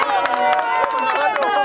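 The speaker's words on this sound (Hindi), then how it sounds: "और ताली बजाओ जोरदार यार दादा जी" A crowd applauds with a quick, dense patter of clapping and some cheering, close and continuous for a moment at an outdoor gathering.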